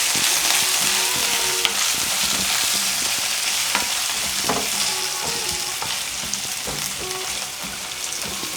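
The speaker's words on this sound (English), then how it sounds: "Look at that, sizzling." Homemade ramen ingredients fry in a pan, giving a steady, close, loud sizzle and crackle with occasional pops and stirring scrapes throughout, no voices.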